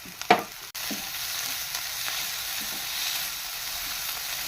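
Milky mushrooms roast over a high flame with a loud, continuous sizzle that starts just after a brief clatter and bump at the start, then stays steady and close with no talking.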